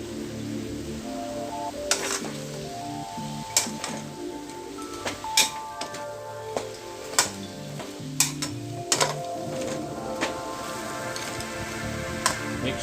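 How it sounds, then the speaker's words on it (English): Bitter melon and beef in black bean sauce stirred in a pan, with steady clinks and scrapes of a utensil and a soft sizzle throughout, no voices. "So now I'm going to mix this sauce with my bitter gourd and mix it nicely."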